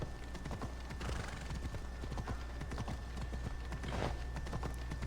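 A horse gallops under its rider in the video game Assassin's Creed Odyssey, with a continuous rapid drumming of hooves, fairly loud and close, running steadily over a low rumbling bed with no talk.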